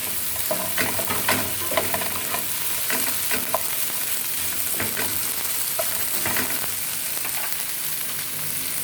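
Okra and bitter melon stir-frying in a hot pan give a steady, close sizzle throughout, with repeated scraping and stirring strokes of a utensil and no voices.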